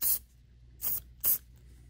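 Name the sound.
spraying Real Magic line conditioner onto fishing reel spool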